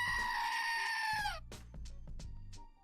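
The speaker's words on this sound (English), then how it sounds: "I don't know if she's gonna react to a goat scream or not, so maybe we'll play that." A loud recorded goat scream, one long harmonic cry lasting over a second, followed by several shorter bleating bursts and scuffling sounds.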